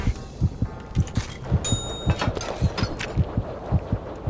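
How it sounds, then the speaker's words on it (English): A heartbeat stress effect in the Hell's Kitchen cooking video game, a loud steady low double thump repeating about twice per second, with faint game chimes above it. "Oh no, there's a heartbeat."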